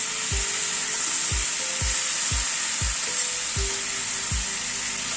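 A vegetable curry for roti fries in a pan after sugar is stirred in: a steady loud sizzle with a spoon scraping the pan about once a second, with no talking.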